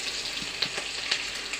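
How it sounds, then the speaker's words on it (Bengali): Bhut jolokia chili pickle with salt and turmeric frying briefly in a pan, a soft steady sizzle with a few faint stirring clicks, close and quiet throughout. "এখন এটাকে অল্প ভেজে নেব।"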